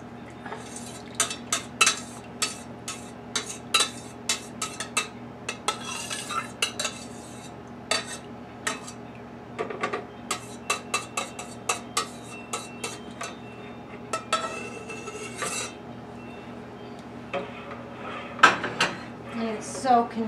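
Soap mixture stirred into olive oil for cold process soap, with repeated clinks and scrapes of a utensil against a container in irregular bursts, close and alone over a low steady hum.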